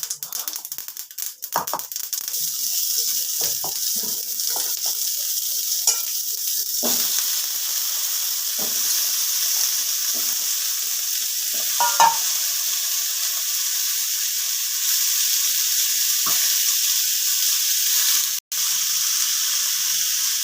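Cut pumpkin and radish tipped into hot oil with mustard seeds, a sharp crackling burst of spatter settling into a loud, steady hiss, with occasional scraping stirs and a single clack near the end.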